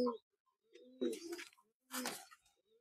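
Silver pigeons cooing softly and close, two or three short throaty coos separated by quiet gaps.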